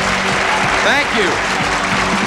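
TV game show studio audience applause fills the room in a steady, loud wash while someone speaks over it.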